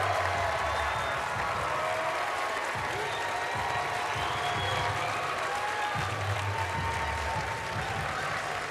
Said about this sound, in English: Big Husky crowd enjoying this, hearing Kaleena Mosqueda-Lewis and her name called